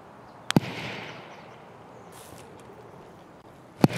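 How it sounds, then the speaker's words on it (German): Gunfire in Escape from Tarkov, two sharp distant shots about three seconds apart over a quiet background hiss. "Aus der Richtung kommen die Schüsse."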